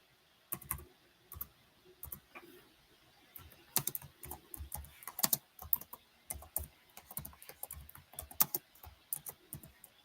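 Someone types on a computer keyboard in quick irregular bursts of close, crisp key clicks with brief pauses between them, and no voices over the tapping.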